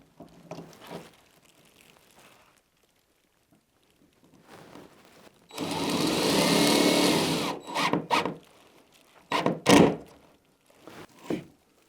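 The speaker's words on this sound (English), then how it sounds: "I will be driving a general purpose screw in just through the web of the eye joist" A general purpose screw is driven through the web of a wooden I-joist during a Broan ERV duct installation: a single sustained power-driver whir of about two seconds, bracketed by scattered knocks and thumps in a quiet room.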